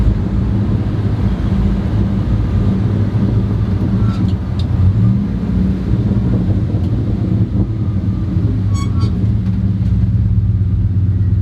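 A 1972 Ford F250 crew cab pickup's engine idles in a steady, close low rumble while the truck is parked on a street, with light wind noise over the microphone and no talk.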